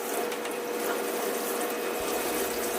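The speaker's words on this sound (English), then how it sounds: "this is where I start soaking her coat in water" Water sprays steadily onto a dog's coat as it is soaked during grooming, a continuous close hiss of running water with no talking.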